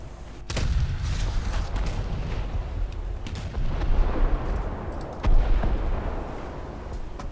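Naval guns fire at the Krasny Krym, an old Russian battleship, in War Thunder, with sharp heavy booms at intervals over a rumbling low background, moderately loud.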